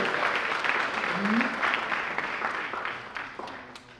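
Guests at a scholarship fundraising gala applaud an honoured woman, with lively clapping that slowly tapers off, and a voice briefly rises over the crowd.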